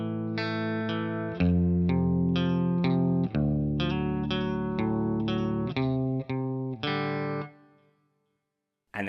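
Distorted electric guitar with chorus plays bars of a classic riff: a rhythmic string of chord stabs and short slides over several seconds, ending on a ringing chord that fades into silence, with no voices.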